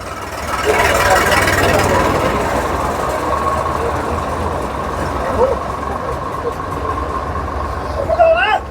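A New Holland 5500 tractor, a 2011 model in original condition, idles with a steady engine rumble throughout, fairly close and loud, with crowd chatter from a busy tractor market around it.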